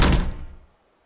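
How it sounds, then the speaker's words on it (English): A door slams shut in the video game The Letter: one heavy, close wooden thunk with a short ringing decay that fades to silence within about three quarters of a second. "He slams his door shut without warning"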